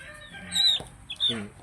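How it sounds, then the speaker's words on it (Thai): A three-month-old chick gives two short, high clucking calls close by, separated by a brief pause. "ไก่ตัวเล็กอยู่นะครับนี่"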